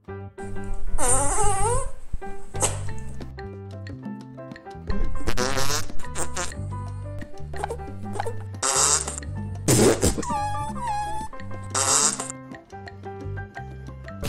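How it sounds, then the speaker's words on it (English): Recorded farting noises stand in for swear words, a string of loud, varied, squeaky and rumbling farts with short gaps between them, some long and wavering, others brief bursts. "replacing the swear words with farting noises"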